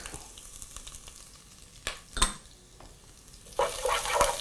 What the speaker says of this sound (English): Give that a nice quick mixture, allowing for your garlic and ginger to brown and just to become nice and fragrant to mix with the oil.